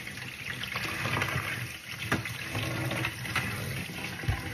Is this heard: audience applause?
no